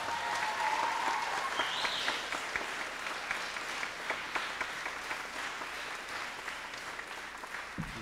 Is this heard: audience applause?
yes